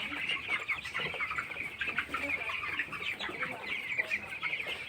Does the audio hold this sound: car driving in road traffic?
no